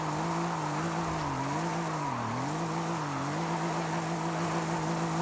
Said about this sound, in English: But at least we know it can do burnouts.